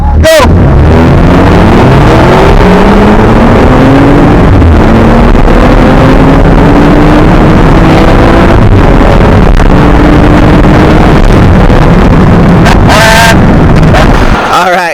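A Stage 1 Volkswagen GTI and a stock BMW M135i drag race, heard from inside a car as a loud engine climbs in pitch through repeated gear changes under heavy wind roar, with brief voices near the start and end.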